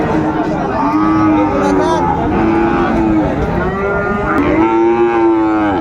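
A Friesian or crossbred bull lets out several long, loud, close moos one after another at a cattle market in Raniganj, Dinajpur, with a faint murmur of people in the background.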